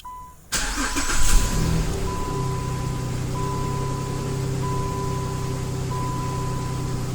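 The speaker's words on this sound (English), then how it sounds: "We're going to test our remote starter." Chrysler, Dodge or Jeep vehicle engine cranking and firing up from a plug-and-play remote starter, a sudden loud catch followed by a steady mid-pitched idle with a faint repeating chime, no talking.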